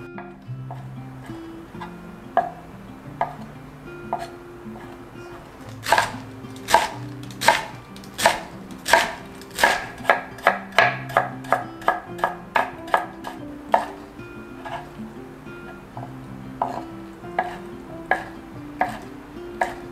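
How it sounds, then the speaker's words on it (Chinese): Knife chopping vegetables on a cutting board: napa cabbage, soaked dried shiitake, wood ear fungus, carrot and ginger. Close, crisp irregular knocks, sparse at first, then fast runs of chops, with quiet pauses between. "首先我们先来切东西。"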